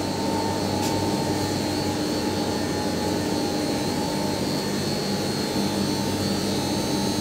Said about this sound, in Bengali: এই হচ্ছে চার্জার মেশিন দেখাচ্ছি।